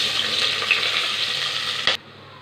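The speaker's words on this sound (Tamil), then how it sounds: "வெங்காயம் போட்டுக்கலாம்." Sliced onions sizzling in hot oil in a pan with whole spices for mushroom biryani, a steady bright frying hiss that cuts off abruptly near the end.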